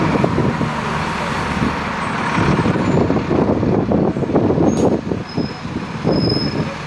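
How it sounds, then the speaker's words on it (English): A bus pulls into Bakewell behind a line of traffic, its engine rumbling steadily close by with rattling, creaking cabin noises and occasional squeaks throughout. "We arrive into Bakewell behind a pile of traffic."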